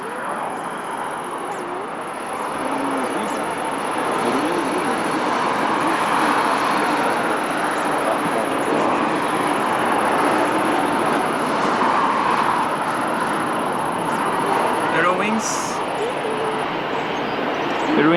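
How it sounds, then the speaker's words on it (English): An Airbus A320-200 airliner at Lisbon Airport gives a long, steady jet roar that swells slightly and holds, heard from a distance, with someone talking over it. "Vai para Berlim aqui o A320-200."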